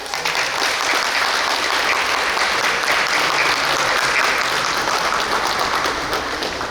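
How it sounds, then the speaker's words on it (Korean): Loud, dense applause from guests at a tape-cutting ceremony opening a special exhibition of donated artifacts at the Daegu Textile Museum, sustained evenly for the whole stretch without any talking. "내빈 여러분들은 테이프가 커팅될 때 큰 박수 부탁드립니다"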